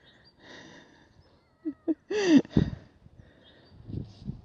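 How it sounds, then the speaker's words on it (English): A cat whines and meows during a neck palpation and bodywork session: a few short, close, nasal cries with small breathy sounds between them in a quiet room. "We have the whiny cat serenade happening down here."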